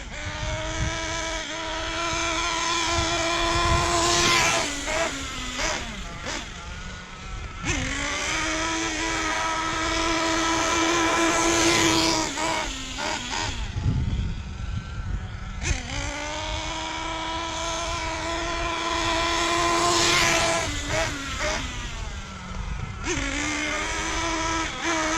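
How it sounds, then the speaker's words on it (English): A Hobao Hyper VS2 RC buggy with a broken, loudly clanking drivetrain and driveshafts whines at high pitch as it speeds up and backs off in repeated runs, the motor note rising and falling with rattling mechanical noise throughout. "This thing's got the loudest drivetrain I've ever heard on a buggy. I can hear everything in there clanking around."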